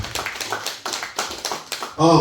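A congregation at a French-speaking church service claps in rhythmic unison, steady beats about every quarter second, before a voice cuts in at the end.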